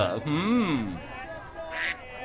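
Cartoon ducklings in cages give a loud, pitch-bending quack followed by a shorter squeaky call, voiced in animated style, likely a voice imitating the birds.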